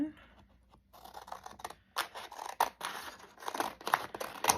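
Scissors snip through a thick pressed flower, several sharp crisp cuts and a little paper rustle, close and clear after a quiet start.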